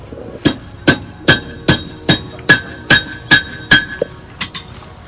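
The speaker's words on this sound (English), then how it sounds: "with my little chisel there, put a chisel mark in it" A hammer strikes a chisel to mark metal in a steady run of about eleven sharp, ringing metallic hits, loud and close, slowing and weakening toward the end.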